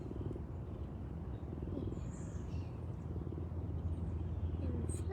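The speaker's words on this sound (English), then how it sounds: "Just a purring machine" A low, steady rumbling purr, close and continuous, with faint background sounds and occasional soft high chirps.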